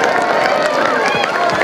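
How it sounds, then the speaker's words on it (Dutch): A crowd at an outdoor Sinterklaas arrival event applauds and cheers for a magician, a dense, steady wash of clapping and shouting from many people throughout. "Mag ik een applaus voor de Goochelpiet?"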